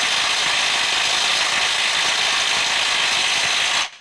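A Snap-on CT9038 stubby 18V cordless impact wrench hammers on a stuck nut without breaking it free, a loud continuous rapid rattling held for about four seconds at close range before it stops abruptly. No voices.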